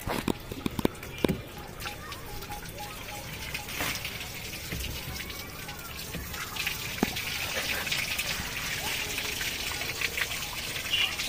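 Water runs through a newly fitted slip-joint plumbing pipe line as a continuous splashing, trickling gush, close and fairly loud, broken by a few sharp knocks and clatters near the start.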